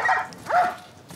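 Dogs in the video game The Last of Us Part 1 barking in a hostile area, two sharp barks about half a second apart at moderate distance, with a faint later sound and no talking.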